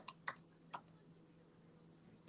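A few quick, faint keystrokes on a computer keyboard, three soft clicks in the first second, then near silence with a low steady hum.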